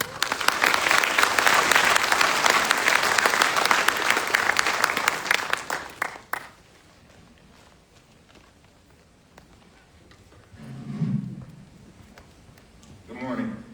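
An audience at a military graduation ceremony breaks into loud, dense applause for about six seconds, then it cuts off to a quiet room with faint rustles and a few low thumps.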